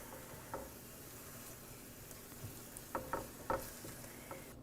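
Onions cooking in a pan with a beef bouillon cube and tomato paste for a Benin peanut sauce give a faint, steady sizzle, with a few soft stirring scrapes near the end.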